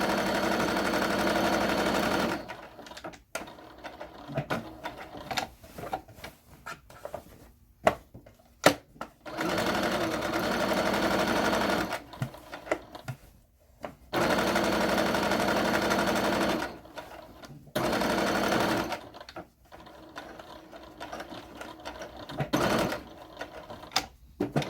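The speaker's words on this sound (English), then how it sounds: "Back stitching at the bottom" A sewing machine back stitching the bottom of an apron, running in loud rapid bursts of a few seconds each, separated by pauses filled with quiet handling clicks and fabric rustle, close to the mic.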